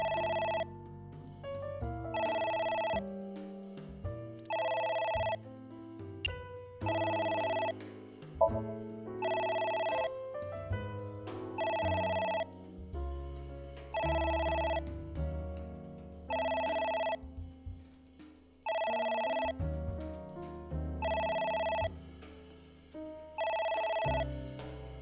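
A telephone rings repeatedly in the video game AI: The Somnium Files, with regular bursts of ringing over a low musical background, moderately loud and steady for the whole stretch.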